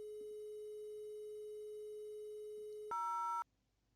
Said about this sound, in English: Can you hear the phone doing its thing